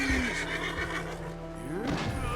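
A wild horse in Red Dead Redemption 2 lets out a loud, close whinny that rises and falls over a couple of seconds, with faint hoof clops underneath.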